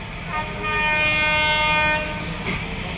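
A train standing at a railway station sounds a long, steady horn blast that holds for a couple of seconds, close and loud over low rumbling station background noise.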